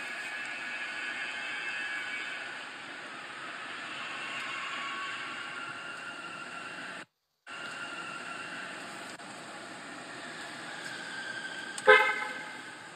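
Car horn sounding as a greeting while driving, a sustained toot over steady road and engine noise inside the car, briefly cut off by a dropout, then a sharper blip near the end.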